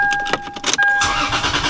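Lexus IS300 engine with a custom-built exhaust, firing up into a loud, steady, deep rumble heard close by after a few brief clicks and bursts.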